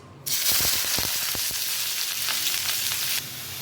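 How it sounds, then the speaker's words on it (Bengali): Chopped onions hit hot oil in a wok for Bengali chhana bhaji, an abrupt loud sizzle with a few clanks, then steady frying that drops off sharply near the end. "তেল গরম হয়ে গিয়েছে, তাই এখন আমি এর মধ্যে আগে থেকে কুচিয়ে রাখা পেঁয়াজগুলোকে দিয়ে দিচ্ছি।"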